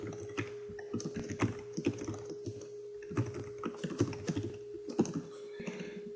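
Code is typed on a computer keyboard in quick, uneven bursts of close, crisp key clicks over a faint steady hum, with no one talking.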